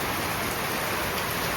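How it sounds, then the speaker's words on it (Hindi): Heavy monsoon rain pours down in Jharsuguda, Brajrajnagar, Odisha, a dense, continuous hiss of drops hitting surfaces with no break, loud and close, and no one speaking. "प्रबल रु प्रबल वर्षा"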